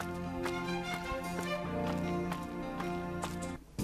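Horse hooves clip-clop in a stable-themed video game, a quick run of light, even taps over looping game music, with a short break close to the end.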